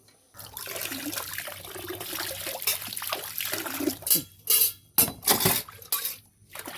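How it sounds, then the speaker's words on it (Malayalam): Liquid fertilizer splashes and trickles as it is poured at the base of a garden plant, a steady close pour that breaks into short separate gushes toward the end. "ഇത് നമുക്ക് ചുവട്ടിലൊഴിക്കാനാണ് ഇത് സ്പ്രേ ചെയ്യാനല്ല ചുവട്ടിലൊഴിക്കാം"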